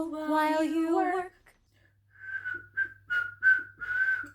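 Someone whistles a tune: a long rising phrase first, then a pause, then a run of short, clear whistled notes, close and alone.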